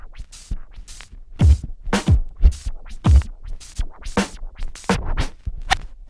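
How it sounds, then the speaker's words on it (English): A DJ rapidly stops and releases a vinyl record with a finger in half time, producing a fast stream of choppy scratchy bursts and clipped beat fragments over about six seconds, fairly loud and close. "you're basically putting your finger on the record and stopping the record,"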